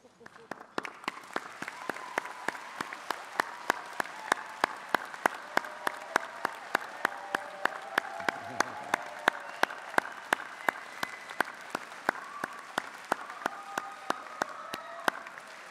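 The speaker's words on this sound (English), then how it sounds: "join me in a round of applause to say thank you for all those who have helped you on the way" Graduates at a Swinburne graduation ceremony give a long round of applause for their families and friends, with sustained crowd clapping marked by sharp individual claps throughout, moderately loud and steady.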